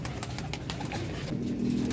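Pigeons coo softly at a bird keeper's setup, a low repeated murmuring call near the listener with a faint steady background hum and no talking.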